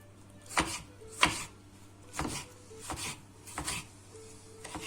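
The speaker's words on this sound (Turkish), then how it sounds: "Şöyle küçük küçük doğrayacağım." Tomatoes are chopped into small pieces for a salad, with six or seven separate knife strokes on a board at an uneven pace, close and crisp, over a low steady hum.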